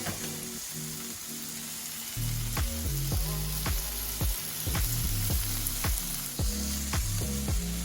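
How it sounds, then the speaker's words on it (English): Vegetables sauteing in a skillet for homemade Philly cheesesteaks, a steady close sizzle punctuated by repeated knocks and scrapes of stirring, with no talking. "continue to saute your veggies"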